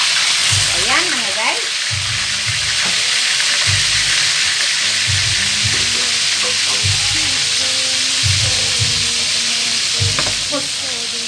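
Milkfish pieces fry in hot oil for adobong bangus, giving a loud, steady hiss that runs throughout, with occasional stirring and faint low background sounds.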